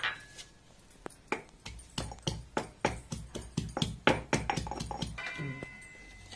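A large garlic bulb is coarsely pounded for a tomato pickle, with about fifteen sharp, close thuds that start sparse and then speed into a steady rhythm.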